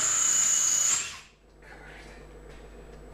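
Power drill in a home workshop during lathe repair and assembly, a loud, high whine for about a second that then winds down and stops, followed by quiet room noise.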